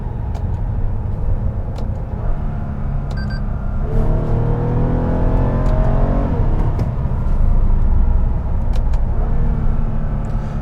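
A 2014 Toyota Avalon XLE accelerates in sport mode, its engine note climbing steadily in pitch with rising, rev-matched gear pulls over constant road and tyre noise, heard close from inside the cabin with no talking.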